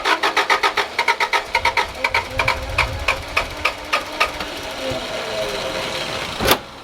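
A Subaru RS Liberty AWD turbo engine, parked for ten years, cranks with a rapid rhythmic chugging before catching and running rough, ending in a sharp clack; a voice talks briefly over it.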